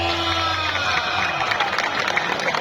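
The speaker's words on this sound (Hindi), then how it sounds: "तालियां" A crowd at a Pakistani stadium kabaddi match roars and cheers in a dense, continuous wash of noise, with a faint musical tone at the start and scattered voices shouting within the din.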